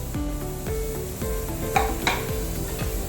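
Onions and grated carrot frying in a pan for rava upma: a steady, close sizzle with repeated scraping stirs of a spoon against the pan and a couple of sharper clinks.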